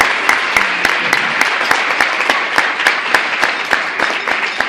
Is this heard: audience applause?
yes